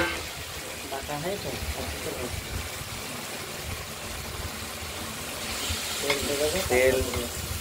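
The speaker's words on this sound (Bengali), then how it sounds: "কড়াইতে পেঁয়াজ একটু ভাজা করে নিয়ে তেলটাও আমরা দিয়ে দিলাম। এবার তেলটা দিয়ে নাড়াচাড়া করলে" Onions fry in oil in a wok with a dense, continuous close sizzle, broken by scraping stir strokes, while a person talks over the cooking at times.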